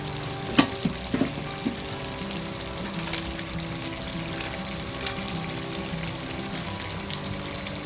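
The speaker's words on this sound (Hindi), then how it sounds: "मसाले को मैं अच्छी तरह भून लूँगी।" Spices (turmeric, salt, garam masala) sizzle in hot oil for a desi kabab karahi, a steady close frying hiss with a few sharp spoon clanks near the start and light stirring throughout.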